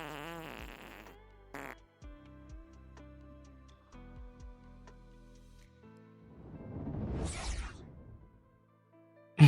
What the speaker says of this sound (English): No more fart sounds.